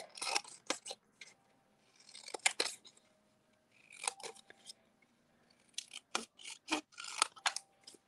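Scissors snip through paper card stock to cut out a greeting-card sentiment, in close, crisp bursts of rapid cuts separated by short pauses, with no talking.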